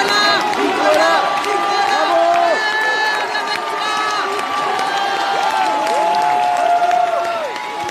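A crowd gathers outside as Nicolas Sarkozy leaves his home with his wife, a dense, continuous hubbub of many overlapping voices, shouts and calls, with scattered clapping and cheering throughout.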